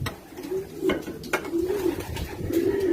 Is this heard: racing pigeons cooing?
yes